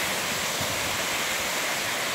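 Krushuna waterfall in Bulgaria roars as a steady, close, dense wash of falling water, with no voices over it.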